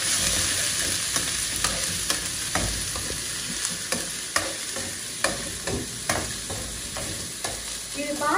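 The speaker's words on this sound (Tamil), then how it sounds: "அப்புறம் நறுக்கி வச்சுருக்க 2 தக்காளி அதையும் போட்டு நல்லா வதக்குங்க" Tomatoes sizzle with ginger garlic paste in a pan for a fish semiya dish. A spatula scrapes and stirs in repeated sharp strokes over a steady frying hiss, with no talking.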